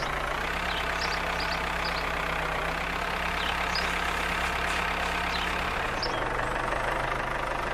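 A tractor engine idles steadily in the Farmers Life video game, a constant low rumble with a slight knock, heard alone at moderate volume.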